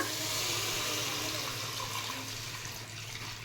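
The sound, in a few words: water poured into a pan of sautéed vegetables for garlic pepper soup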